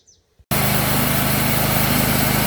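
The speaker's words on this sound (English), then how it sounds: "Just got the blade tracking sounding good, engine's running smooth." A Cooks MP32 sawmill engine starts up after a brief quiet moment, then runs loud, steady and close at around 3,000 RPM with a constant buzzing drone.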